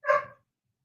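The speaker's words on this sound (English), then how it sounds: "I apologize for my dog barking." A single short, sharp bark from a dog sounds close and loud, then silence follows.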